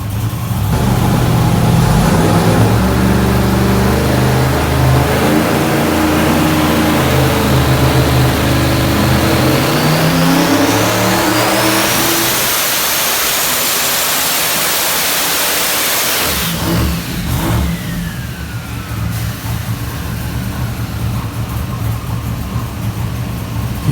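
A Borowski 540ci twin-turbo big-block Chevy race engine on flex fuel with twin sets of 2200cc injectors runs loud and close, its pitch rising and falling through revs, then settling to a rougher steady drone.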